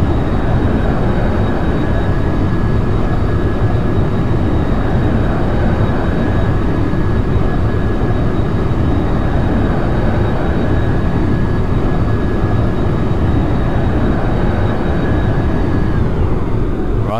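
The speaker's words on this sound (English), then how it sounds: "This is the plane, it's an A-22 Raptor." Simulated F-22A Raptor jet in a flight simulator game, flying over Mount St. Helens, gives a steady, loud, continuous engine roar with a faint whine, unbroken throughout and without talk.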